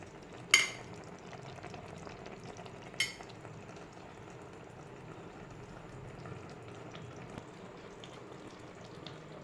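Chicken curry with onion, green chilli, ginger and tomato simmering in a pan, a faint steady sizzle and bubble with two sharp clinks of a spoon stirring early on.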